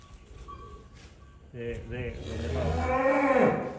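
A large European-breed cow moos loudly and close by, one long harmonic call that swells and holds over the second half, with people chatting in the background before it.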